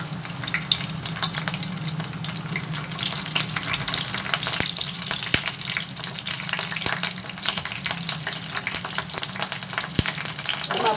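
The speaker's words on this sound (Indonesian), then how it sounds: "Nah ini sudah panas minyaknya. Saya akan goreng percabean." Chili peppers frying in hot oil for a peanut sauce, a steady close sizzle and crackle with occasional sharp pops and stirring clatter, no voices.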